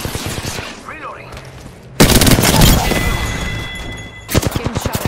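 Gunfire in the video game Apex Legends: a quiet stretch with faint effects breaks into loud, sustained automatic fire, then another rapid burst of shots closes it out.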